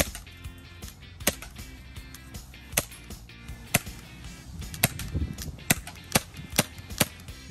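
Shots from a Glock 19 airsoft BB gun hitting a target: a series of sharp, snappy cracks at irregular intervals, about a dozen over several seconds, close and distinct over light background noise, without speech.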